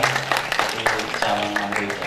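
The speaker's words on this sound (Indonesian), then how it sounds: "Tepuk tangan dulu boleh?" Audience at an openSUSE.Asia Summit tech talk giving a short burst of clapping, brisk and fairly close, with some voices mixed in.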